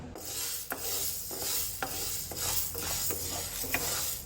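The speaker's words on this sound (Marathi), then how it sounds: "मूग जे असा पहिले हवे धुवून बी कांयच घेवना डायरेक्टली जे असा न्ही हांव हे पहिली भाजून घेता" Moong beans dry roasted in a pan on a low flame, heard as a soft, even rasping of beans stirred across the metal, with regular scraping strokes about twice a second, close and quiet.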